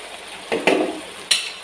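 Water goes into a hot pan of cooking eggplant and potato, giving brief bursts of sizzle and splashing, then a sharp clink near the end.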